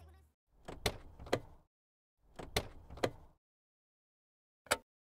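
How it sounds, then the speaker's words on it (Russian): Car doors and the hood of a Moskvich 400 in a simulator game open and shut: two quick pairs of hollow clunks, then a single close thump after a pause. "Когда мы открываем, закрываем двери, капот, включаем, выключаем свет,"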